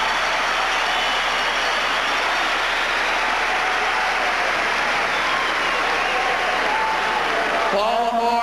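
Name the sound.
crowd applause for the Steamers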